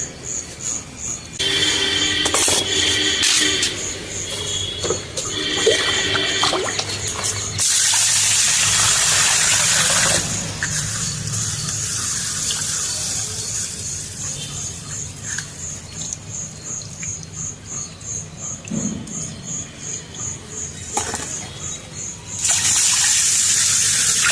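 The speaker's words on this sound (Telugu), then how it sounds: "మినపప్పులో కూడా నీళ్లు పోసి నానబెట్టుకుందాం." Water pours and gushes into a container of soaking lentils in several long bursts, with pauses and faint clinks in between.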